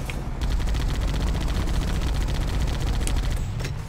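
Sustained rapid gunfire from the shooter Halo CE, a dense stream of evenly spaced shots fired at enemies, loud and close, holding without pause for several seconds.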